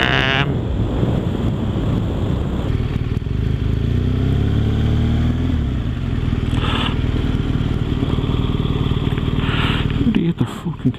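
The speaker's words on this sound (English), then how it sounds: "It kind of sounds like an old World War II Messerschmitt." A BMW R1200 motorcycle engine with an Akrapovic exhaust gives a deep, steady, close rumble that holds for the whole stretch, with a rougher burst near the end.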